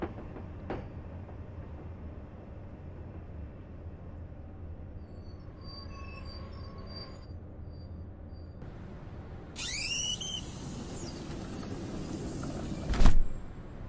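Metro-North Hudson and Harlem line commuter train in Train Sim Classic pulling out of Yonkers station, a low rumbling hum with faint tones, then a rising electric whine and a brief loud clunk near the end.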